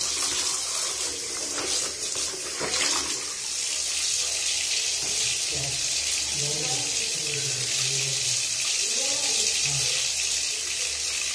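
An RO water filter membrane is washed under running water, giving a steady close hiss of flowing water with splashy shifts and faint low murmuring talk underneath.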